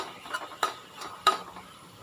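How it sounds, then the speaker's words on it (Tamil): Semolina and grated coconut dry-roasting in a pan, heard as a few faint, soft scraping taps of a spoon stirring at an uneven pace over a quiet, low background. "இதோ ரவாவும் தேங்காய் துருவலும் ரெண்டும் சேர்த்து வறுத்துக்கலாம்"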